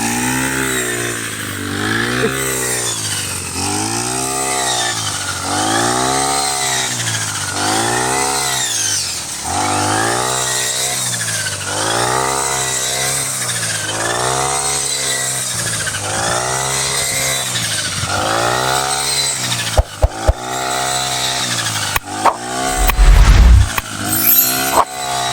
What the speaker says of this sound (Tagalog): ngayon saglit na lang dahil dito sa brush cutter na to na ginawang harvester